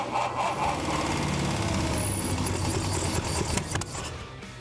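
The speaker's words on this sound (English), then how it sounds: "they set out for another engine test" Classic 1960s Mercedes-Benz engine running during a test after restoration, a close, loud, rough continuous drone with a sputtering, uneven edge that holds steady throughout.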